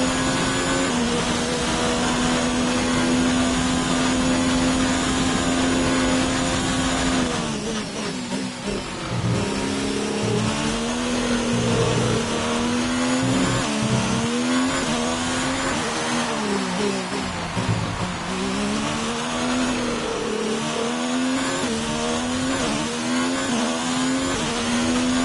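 An F1 car engine in F1 2019 on the racing game, holding a loud, steady high-pitched whine that drops briefly, then surges through repeated rising and falling revs as gears shift, close and continuous throughout.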